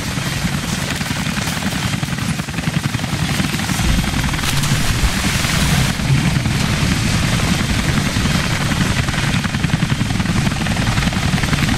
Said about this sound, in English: Demolition crews are already packing up the choppers.